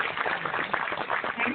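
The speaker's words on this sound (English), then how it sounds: "Let's have a big round of applause for Mr." Audience applause for John Bailey, president of the Academy of Motion Picture Arts and Sciences, at a formal ceremony: a steady, dense wash of clapping heard faintly from a distance, as if over a muffled hall recording.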